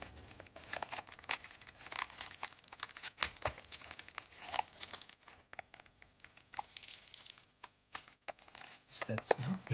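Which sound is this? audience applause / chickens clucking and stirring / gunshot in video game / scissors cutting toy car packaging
scissors cutting toy car packaging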